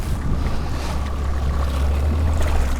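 Outboard motor on a fishing boat out on the water, running steadily and close by under wind noise, a continuous low drone with no talk.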